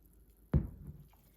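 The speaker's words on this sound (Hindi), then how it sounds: "अब सूजी के हलवे में 3 प्याली पानी डालेंगे" Water poured from a cup into roasted semolina for sooji halwa in a hot pan, landing as one sudden loud splash and sizzle that quickly fades into a soft bubbling hiss, with no talking.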